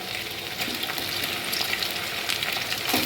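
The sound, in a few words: mutton frying in ghee and oil with onions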